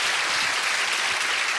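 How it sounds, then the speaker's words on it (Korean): A seated audience at a youth food-industry lecture event gives a short burst of dense, even clapping that fills the room, loud and close, with no voices over it. "다시 한번 뜨거운 박수 부탁드리겠습니다"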